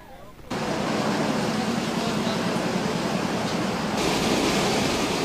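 Floodwater covering the Santa Barbara–Mangaldan Road in Pangasinan, shin-deep, a dense steady rushing wash that comes in abruptly after a quiet start and stays loud throughout, with voices faintly beneath it.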